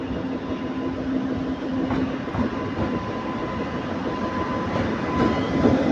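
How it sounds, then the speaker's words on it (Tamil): A passenger train bound for Mangalore pulling into a station, a continuous loud rumble with faint clickety-clack of wheels on rails and a brief squealing tone, heard close by. "மங்களூர் வண்டி வந்துருச்சுங்க"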